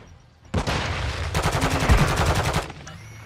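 Rapid automatic gunfire bursts out in Call of Duty: Modern Warfare II, a loud, close rattle of fast shots lasting about two seconds, with a brief exclamation in the middle.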